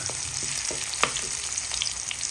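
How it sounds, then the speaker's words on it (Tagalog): Garlic, onion and ginger sauté in a hot pan, a loud continuous frying crackle with several sharp stirring clicks throughout, close and without speech. "Nigisa po natin ang ating bawang, sibuyas at ang ating luya."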